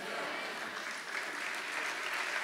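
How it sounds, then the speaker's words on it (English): Conference audience applauding together in a large hall, a dense, steady wash of clapping that holds at full strength throughout. "if we're gonna clap, let's just all clap together"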